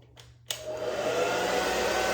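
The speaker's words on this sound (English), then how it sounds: "So I'm going to turn this on low" A blow dryer with a cool shot button clicks on and runs at a low cool setting, a sudden start followed by a steady close airy whir with a faint motor hum.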